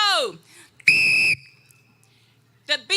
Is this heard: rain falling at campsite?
no